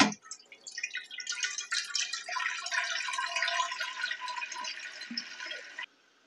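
Tap water running into a cooking pot for macaroni, a bright steady splashing stream filling the pot for about six seconds, close and loud, then cut off abruptly.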